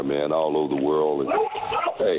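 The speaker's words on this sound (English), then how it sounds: "that's my dog going crazy" A dog barks and yips excitedly in the background at home during an interview, partly masked by someone talking loudly over it.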